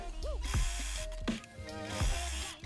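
A sewing machine stitches elastic along an opening in stretch fabric for bike shorts or leggings, giving short whirring mechanical bursts with brief pauses between runs, close and fairly quiet.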